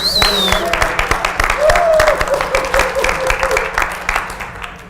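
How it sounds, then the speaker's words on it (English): An audience at an early Sunday morning conference session claps for itself, with a broad wash of applause running throughout, moderately loud and fading slightly toward the end, with a faint tonal sound over it. "Can we all kind of give ourselves a round of applause for being here bright and early?"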